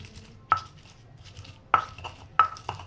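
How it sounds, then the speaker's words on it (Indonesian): Fried chilies are pounded in a stone mortar with a pestle, three or four sharp, distinct knocks spaced about a second apart, close and clear against a quiet kitchen background. "Tadi udah saya goreng sebentar, cabenya kita ulek."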